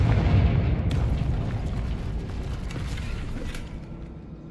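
A Confringo spell explosion in Hogwarts Legacy, a video game, bursts with a loud, deep boom and a rumbling blast that slowly fades over several seconds, with crackling debris and no voices.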